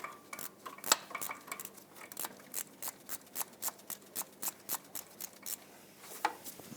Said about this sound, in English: I'll give it a quick snug. I'm only using a small ratchet here